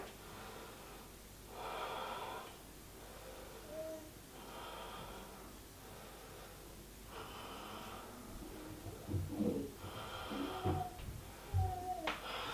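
Slow, deep yoga breaths during a held pose, five or so long rhythmic inhales and exhales, close and soft, with a few faint stirrings in between.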